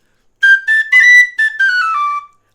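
A wooden tin whistle plays bright, clear notes in its upper second octave, a short run of five or six separate tones, loud and close with silence before and after.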